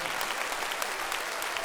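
Concert crowd applauding a singer being called to the stage at a live salsa band show, a dense, even roar of clapping filling the whole moment without a break.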